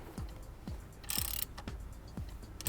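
Half-inch drive ratchet wound gently to push a brake caliper piston back, giving four or five evenly spaced clicking strokes with a brief metallic rasp midway, close and clear with no talking.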